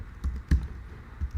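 Several soft keystrokes on a Mac computer keyboard during a programming session, tapped in a loose uneven rhythm with short gaps, close and fairly quiet with no speech.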